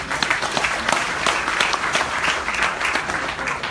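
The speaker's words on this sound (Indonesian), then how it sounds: "Tepuk tangan dong Mbak Martunis." An audience at a tsunami remembrance event applauds, with steady clapping filling the room for a few seconds.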